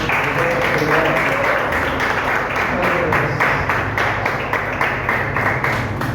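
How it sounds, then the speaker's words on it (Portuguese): Church congregation applauding during a worship service, a steady broadband wash of clapping that fills the whole stretch at even loudness, with voices mixed in underneath. "Vamos aplaudir o Senhor,"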